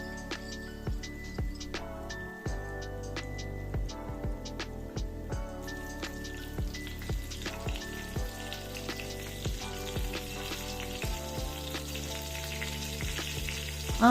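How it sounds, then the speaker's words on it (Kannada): Rava-coated bangude mackerel fries in a little hot oil over a low flame, giving a steady, gentle sizzle that runs under background music. "ಎಣ್ಣೆ ಸ್ವಲ್ಪ ಬಿಸಿ ಆದಮೇಲೆ ಅದಕ್ಕೆ ಮೀನು ಹಾಕ್ಕೊಂಡು ಉರಿ ಕಡಿಮೆ ಮಾಡಿ 5 ನಿಮಿಷ ಫ್ರೈ ಆಗೋಕ್ಕೆ ಬಿಡಿ"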